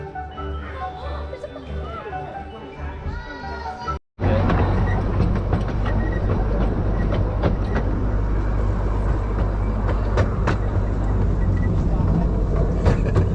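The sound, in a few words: little train ride at Oakwood theme park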